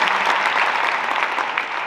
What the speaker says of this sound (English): give them a round of applause for the work that they've done